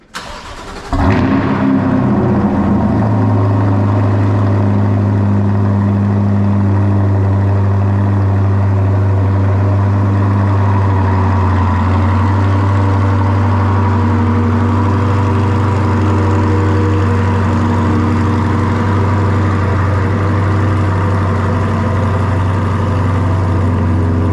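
A 2024 Duramax dually pickup engine starts with a brief crank and then settles into a steady, deep diesel idle with a strong low hum that runs unchanged and loud for over twenty seconds.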